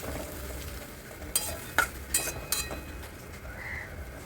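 Grated soybean and potato curry ingredients with spices and a splash of water are stirred in a pan, a low sizzle broken by a few scraping spatula strokes, no voice.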